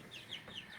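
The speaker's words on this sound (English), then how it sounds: "Miss Clara is a hen that I got from a lady named Pam Santana" A hen clucks softly in a few faint, quick notes, close but quiet.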